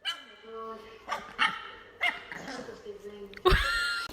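Dog barking in bursts, several short sharp barks spread across a few seconds with people talking and reacting over them, ending in a louder close burst.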